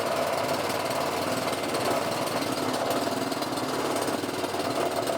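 A Kawasaki lawn mower engine that will not idle properly runs roughly and lumpily, a loud, continuous uneven chugging with no talk.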